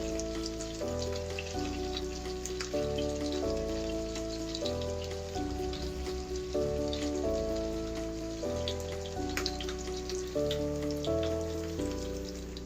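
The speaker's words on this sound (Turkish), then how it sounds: "Tereyağımız eridi arkadaşlar. Şimdi biberlerimizi tavamıza dökelim. Biberlerimizi soteleyelim." Bell peppers sauté in melted butter in a pan with a steady, soft sizzling hiss, partly masked by rhythmic background music.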